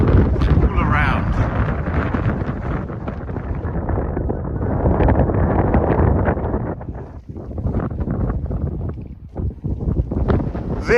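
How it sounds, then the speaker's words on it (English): Cold wind buffets hard across an exposed moorland site in the Peak District, a loud continuous roar with gusty swells and rumbling microphone buffeting throughout, no clear voice. "This wind is so cold."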